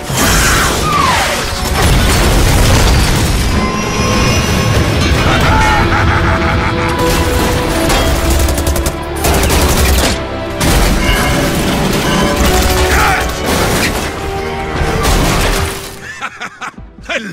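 Cannon fire from an animated adventure film booms and crashes in a loud, sustained barrage, heavy blasts mixed with shattering debris and score throughout.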